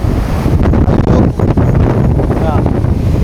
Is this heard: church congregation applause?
no